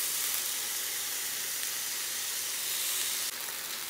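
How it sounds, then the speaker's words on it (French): Endives laid into a frying pan sizzle with a steady, even hiss, close and continuous from start to finish with no talk over it. "je vais poser mes endives sur la poêle pour que ça cuise"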